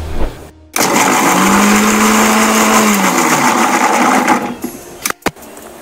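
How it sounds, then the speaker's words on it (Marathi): A mixer grinder blends peanut chilli chutney with salt, tamarind and water in a loud, steady whirring drone that holds for about four seconds, then cuts off, leaving a couple of brief knocks. "आता मिक्सरमध्ये फिरवून घेऊया."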